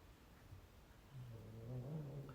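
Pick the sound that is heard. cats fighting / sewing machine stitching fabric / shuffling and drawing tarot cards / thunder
cats fighting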